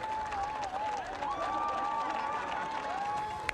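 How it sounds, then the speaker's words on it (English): A crowd at a strongman competition in Poland applauds and cheers steadily, a continuous wash of clapping with a whistle-like tone riding over it, moderately distant. "the crowd are loving you here"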